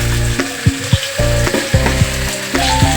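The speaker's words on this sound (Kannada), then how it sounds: "ಲಾಸ್ಟ್ ಫೈನಲ್ಲಿ ಒಂದು ತಲೆಯನ್ನು ಫ್ರೈ ಮಾಡ್ತಾ ಇದ್ದೀನಿ" A fish head frying in oil over a home stove, a loud close steady sizzle broken by several sharp knocks and scrapes of a spatula, no voices.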